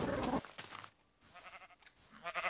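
Grey sheep bleat in Minecraft, a short bleat at the start and a second toward the end, with quieter game sounds between.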